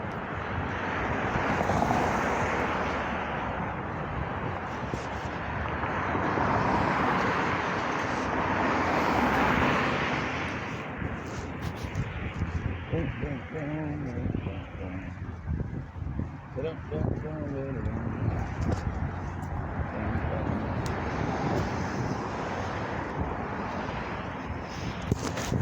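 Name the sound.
airplane flying overhead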